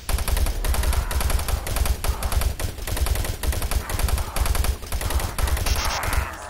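Rocket launcher fire and combat in the 2004 game Doom 3 during a fight with a Revenant, a loud, dense run of rapid repeated bangs and blasts that keeps going over the whole stretch, with no talking.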